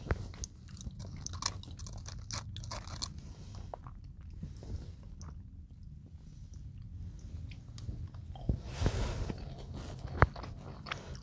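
Someone eats a warm, crispy Belgian mashed potato snack from the Ministop convenience store, with close, soft chewing and occasional crunchy bites heard alone at a steady pace.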